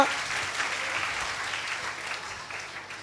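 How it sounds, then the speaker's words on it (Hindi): A Sunday church congregation claps in praise, a dense and continuous round of applause that gradually fades. "बोले ताली बजा के स्तुति करेंगे प्रभु की।"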